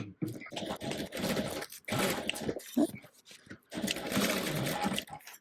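A sewing machine runs in short bursts while basting Velcro along the long edges of a beach bag, stopping and starting with brief pauses in between.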